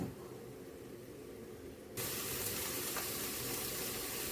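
Ginger paste hits a hot pan for Bengali shukto, the quiet background giving way halfway through to a sudden, loud, steady sizzling hiss that continues to the end.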